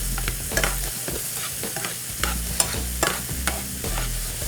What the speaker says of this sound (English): Now we're gonna give that a bit of a stir.